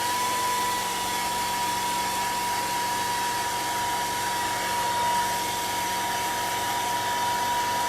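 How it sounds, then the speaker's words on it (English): A hair dryer blows steadily and loudly at close range over a freshly made Christmas berry and vine door hanger, a constant rushing whir with a faint high whine throughout, no voices. "I'm gonna hit this with a dryer really quick"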